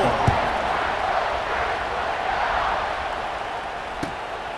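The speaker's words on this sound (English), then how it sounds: "this crowd is buzzing after that last score" A stadium crowd in the College Football 26 video game keeps up a steady, dense roar throughout, broad and constant with a couple of faint sharp knocks, and no distinct speech on top.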